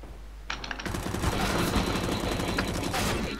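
Automatic gunfire in Counter-Strike: Global Offensive, with rapid bursts of rifle fire that start after a short lead-in and keep going densely and loudly almost the whole time.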